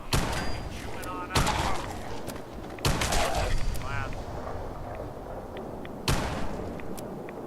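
Cannon blasts in the Fallout video game: three or four heavy booming shots spaced a second or more apart, loud and close, each trailing into a rumbling decay over continuous background noise.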